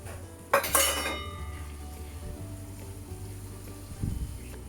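Seasoning powder is stirred into a thick shakshouka tomato sauce in a pan, with a few sharp metallic clinks of a utensil against the pan early on, then softer scraping and another knock near the end.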